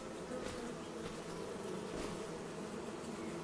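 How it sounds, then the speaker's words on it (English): Bees hum steadily around beehives on a farm in Farming Simulator 25, a continuous buzzing drone that holds at an even, moderate level without a break. "Look at all the bee things I put in. Listen to them hum."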